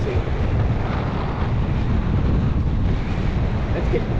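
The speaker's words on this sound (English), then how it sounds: "It's getting windy. Nice cool breeze." Wind blows hard across the microphone on the South Portland Greenbelt bike trail in Maine, a loud, steady low rumble and hiss with no break.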